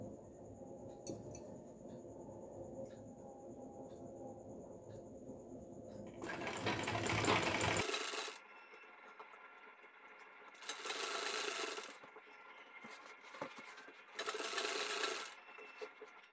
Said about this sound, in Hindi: यहाँ से हम सिलाई लगा लेंगे